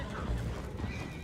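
Horses below deck on a boat in Red Dead Redemption 2, a brief burst of neighing and stamping over a dense low rumble.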